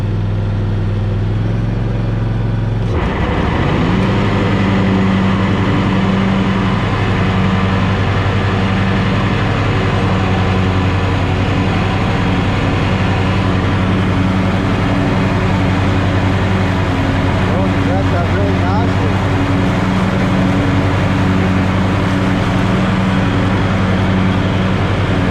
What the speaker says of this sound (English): let me throttle it up, turn the blades on, lower the deck,